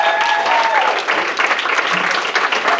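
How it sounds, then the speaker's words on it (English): Loud, sustained applause from a crowd at a songwriting and story circle workshop, dense clapping filling the whole stretch close by, with a faint voice briefly underneath. "How about another great round of applause for"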